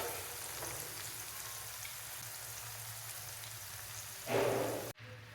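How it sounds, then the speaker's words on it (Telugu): Tomato pieces frying in a pan for a broad bean and tomato curry give a steady, close crackling sizzle, with a louder spitting burst near the end before a brief drop. No one speaks. "టమాటా ముక్కలు ఇలా వేగితే సరిపోతుంది."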